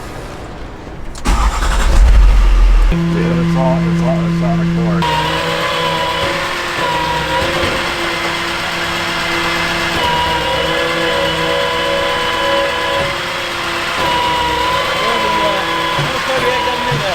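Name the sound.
dump truck engine starting and revving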